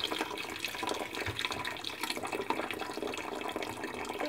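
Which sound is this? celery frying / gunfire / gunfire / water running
water running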